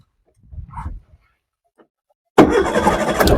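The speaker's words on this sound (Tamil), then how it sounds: "எப்பயும் போலதான் நான் வண்டியை ஸ்டார்ட் பண்ணி காமிச்சிடறேன் பாருங்க" A Maruti Zen car engine cranks and catches, then settles into a steady, fairly loud idle after a quiet pause with faint earlier rustling.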